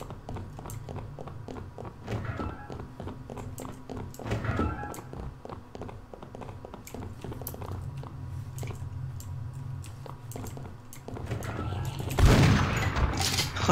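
Repeated gunshots from the video game Afraid of Monsters, a steady series of fairly close shots with short pauses, growing louder toward the end, with faint voices in the background.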